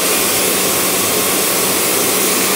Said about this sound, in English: I'll finish jet washing this.